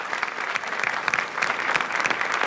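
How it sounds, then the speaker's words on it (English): A crowd applauds warmly to welcome a musician onto the stage at an environmental event, loud continuous clapping with many crisp individual claps throughout. "Please welcome with a warm applause"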